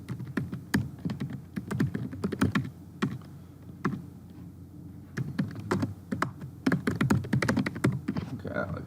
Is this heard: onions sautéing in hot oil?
no